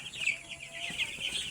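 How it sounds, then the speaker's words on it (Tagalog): Nine-day-old broiler chicks peep and cluck in a soft, continuous chorus, close but quiet. "Ito na yung mga broiler chicken, mga makukulit na yung mga broiler chicken"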